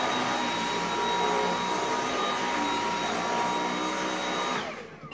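A Dyson pet vacuum cleaner runs with a steady, loud motor whine and a whooshing airflow that hold nearly constant, then begin to wind down at the very end.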